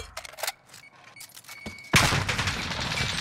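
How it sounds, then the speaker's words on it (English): Gunfire crackles through a live online shooter match, scattered sharp shots at first, then a loud dense burst of rapid fire that keeps going to the end, with no talk. "I'm getting shot at, boy."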